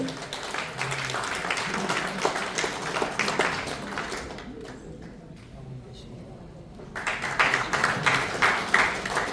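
Audience applause at a political rally in a press center hall welcoming a speaker, a steady patter of many hands that drops away briefly, then swells again near the end.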